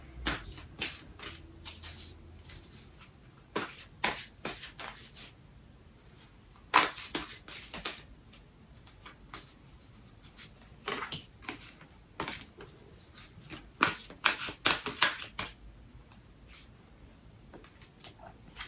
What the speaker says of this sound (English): I just want to pull some clarifying cards on that one.